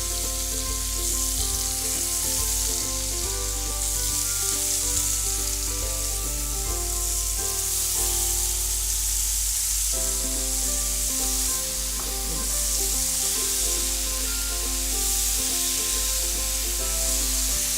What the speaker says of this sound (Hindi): एकदम ये जो सिजलिंग की नॉइज़ है बहुत अच्छी लग रही है नॉइज़